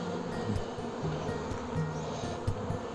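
Carniolan honey bees swarming back into their new hive make a steady buzzing drone, with individual bees passing close by now and then over a continuous hum and no talking.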